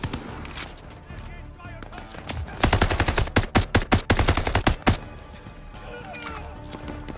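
Gun firing with heavy recoil in the Call of Duty: Vanguard campaign on PS5: a rapid burst of loud, close automatic shots in the middle, with quieter game ambience before and after.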